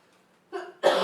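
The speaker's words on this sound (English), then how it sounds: "Hold on, one more cough." A person coughs twice at close range, a short first burst followed by a louder, harsher second cough right after a brief pause.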